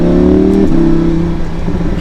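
A Lamborghini Huracan with its V10 engine revs hard while driving, a loud close engine note climbing then dropping sharply at a gearshift before settling into a steady drone.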